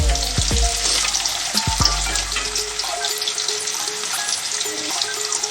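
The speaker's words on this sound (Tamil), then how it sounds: "நல்லா வெங்காயம் இந்த மாதிரி நல்லா வதங்கணும்" Onions with curry leaves sauté in a pan for cauliflower masala curry, a dense steady frying hiss with a few low knocks and scrapes of the spoon early on.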